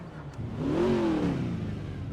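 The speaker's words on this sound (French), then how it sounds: "Comme vous avez pu l'entendre avec cette magnifique RS6" A modded Audi RS6 in the FiveM game revs up in one smooth rising and falling engine sweep, loud and close with a steady mid-pitched roar and no talk.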